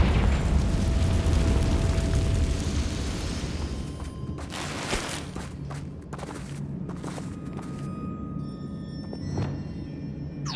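Confringo blasting spell exploding in Hogwarts Legacy on Nintendo Switch, a loud rumbling blast that fades, followed by scattered debris clatters and footstep-like thuds, no talk.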